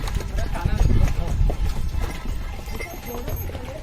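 Horse hooves clip-clopping on a ride up toward Kufri's Mahasu peak in Himachal, a rhythmic, close clatter of steps that fades slightly, with people talking over it.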